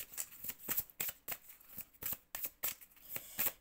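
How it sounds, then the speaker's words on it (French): A deck of tarot-style cards is handled and split in two, giving a quick series of crisp riffling and flicking card sounds in uneven bursts, close and soft, with no talking. "je vais couper le jeu en deux"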